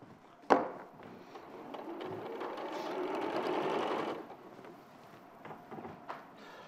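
A sewing machine chain pieces quilt columns, a soft short run of stitching after a sharp click, heard faint and close with light handling noises around it.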